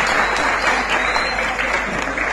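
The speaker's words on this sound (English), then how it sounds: "Clap yourself. Wonderful." A crowd applauding steadily at a church service in Jamaica, dense clapping that stays loud and even throughout the short stretch.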